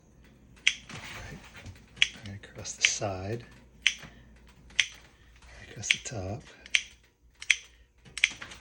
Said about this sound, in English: I just cut it with the scissors